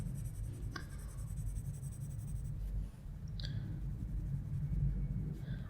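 A Black Widow colored pencil scratches across paper while laying down an overall layer of skin tone, a close, continuous dry scraping with a brief pause and a few light clicks.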